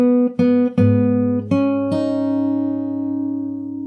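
Fingerstyle acoustic guitar playing a short passage from a song: four or five plucked notes and chords ring out over a sustained open bass note, played alone and close, then left to fade.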